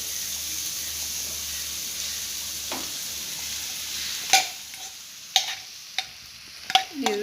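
A spoon scrapes and knocks against a pan while fried tapioca with green peas is stirred, a few distinct clinks in the second half over a soft background hiss.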